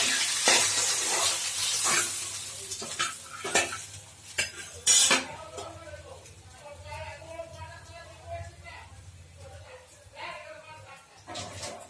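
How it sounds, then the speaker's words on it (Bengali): Fried fish lifted from a wok into a bowl: quick metal clinks and scrapes of a utensil against the pan over a faint sizzle, then a voice talks as the clatter thins out. "আমি কড়াই থেকে এগুলো পাত্রের মধ্যে তুলে নিচ্ছি"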